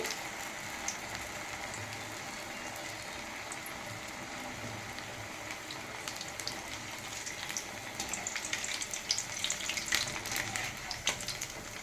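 Puffed rice vadas (mandakki vada) frying in oil, heard as a soft, steady crackle and bubbling that grows a little busier toward the end, with no talk.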